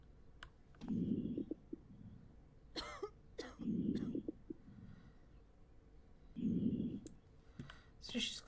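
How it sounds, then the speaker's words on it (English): A sick woman character coughs in the game Quarantine Zone, three rough, close coughing bursts spaced a few seconds apart, with mouse clicks and faint sounds between them. "So she's got a sick cough"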